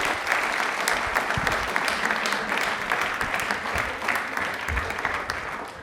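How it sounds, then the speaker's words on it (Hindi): A studio audience at a televised quiz show claps loudly and steadily for several seconds, with dense, continuous applause from the crowd. "तालियां प्लीज एक बार जोरदार हो"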